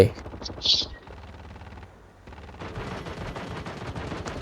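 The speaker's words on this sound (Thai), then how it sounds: "ดูเหมือนว่าข้างหน้าเรายิงกันบานเลยทุกคน" Gunfire in Call of Duty Mobile: a few shots open, then after a brief lull comes a sustained stretch of rapid, crackling automatic fire, moderately loud and continuous.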